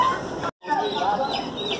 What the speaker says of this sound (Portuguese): Ó, as galinhas aí, galera